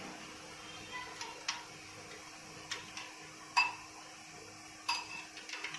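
A spoon mixes sizzler ingredients seasoned with black pepper, giving sparse faint clinks and taps against a bowl over a quiet room hum.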